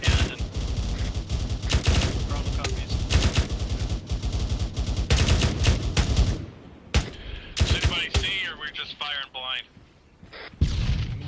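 Gunfire in a firefight with infantry, dense bursts of shots and booming reports crowding the first six seconds, then sporadic loud cracks with radio-like chatter and voices in between.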